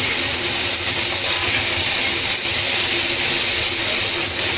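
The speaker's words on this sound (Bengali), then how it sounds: "পেঁয়াজটাকে ভালো করে ভাজা ভাজা করে নেব" Onions frying in a pan after cinnamon went into the oil, giving a loud, steady sizzling hiss that holds throughout with no talking.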